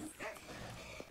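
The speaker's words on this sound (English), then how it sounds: "Fucking dog!" A dog attacking in the horror game Silent Hill: Homecoming, heard as a brief, faint snarling yelp and whine that ends quickly.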